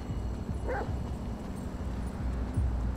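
A single short dog bark from a dog in Grand Theft Auto V, faint under steady game background noise, with no talking.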